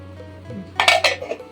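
Close metallic clatter and scraping of rice grains and water swirled in a metal pot during washing, a short busy burst after a quiet start.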